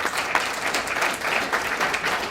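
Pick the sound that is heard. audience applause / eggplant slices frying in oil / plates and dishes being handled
audience applause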